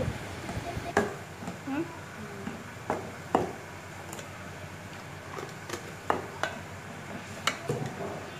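Spices are stirred in a cooking pan while making aloo keema, with a quiet scrape and clink of a spoon against metal repeating at irregular intervals, faint and close under a soft background hiss.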